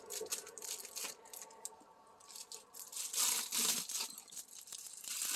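Scissors snip and tear open an Amazon shipping package, with crisp cutting, ripping and crinkling of packaging material in bursts, close and fairly quiet, with no talking.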